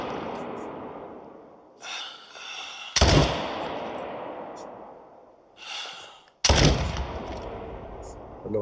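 Gunfire aimed at an enemy in a video game: two sharp, loud shot bursts with decaying tails, separated by quieter game ambience and a voice speaking between them.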